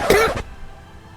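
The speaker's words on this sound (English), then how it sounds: "Editing out the coughing." A single short, loud cough bursts out at close range, then fades quickly into near silence.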